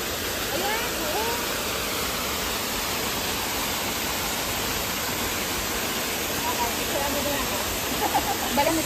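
Waterfall at Ping Nam Stream rushing in a dense, steady roar of falling water, loud and continuous, with voices faintly talking beneath it.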